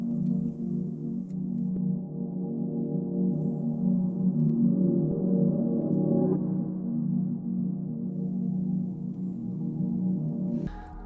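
A steady, low sustained drone forms the first layer of an ambient beat, a soft continuous pad that holds unchanged for several seconds before cutting off near the end.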